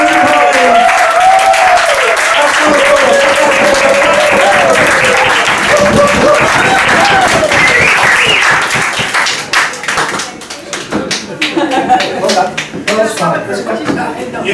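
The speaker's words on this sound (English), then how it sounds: "another huge round of applause" Dense, loud applause from the audience at a poetry slam as the winner is announced, continuous for several seconds with voices over it, then thinning into scattered claps and chatter.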